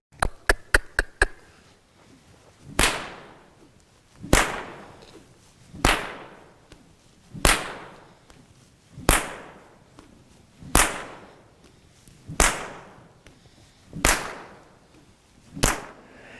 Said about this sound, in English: When they apply bull whip, horse not speed up, travel on the speed we desire from the horse.